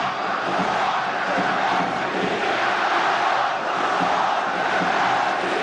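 Iraqi football fans roar steadily throughout a stadium crowd, a dense, continuous wall of cheering and chanting that holds at an even, loud level with no pauses.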